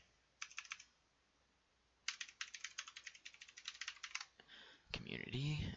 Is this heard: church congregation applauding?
no